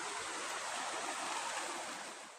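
Water rushes steadily past a small bridge near Manal Aaru Falls, a constant broadband wash that stays loud and even throughout before easing slightly at the end, with no voices.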